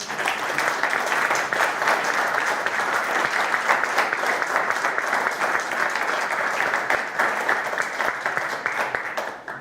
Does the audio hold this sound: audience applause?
yes